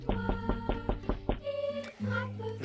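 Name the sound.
knocking on a door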